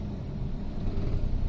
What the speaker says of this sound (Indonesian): Halus, kedengaran suara mesinnya halus